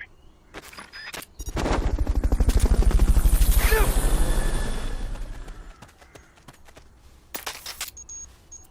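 Helicopter in the video game Metal Gear Solid Peace Walker: a loud rotor thump with a rapid rhythmic beat swells in for a few seconds and then fades, amid sharp game effect clicks.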